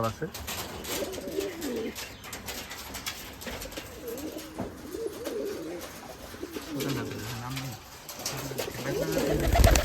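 Black Rajshahi Giribaz pigeons coo nearby in repeated soft, low, rolling calls that rise and fall over a steady background hum.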